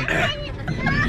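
A voice imitates an old car that won't start, making a rough, sputtering, throaty noise that runs briefly and close up.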